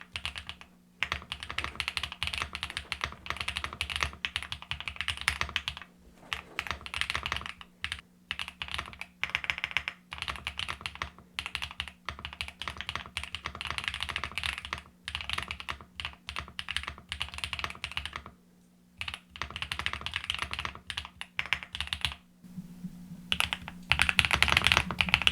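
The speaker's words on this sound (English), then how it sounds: "I'll bring it down near the keyboard so you can get a much more up-close typing audio test." Fast typing on an Epomaker P75 hot-swappable mechanical keyboard, recorded up close, with a dense patter of clicky keystrokes broken by brief pauses and a few louder key presses near the end.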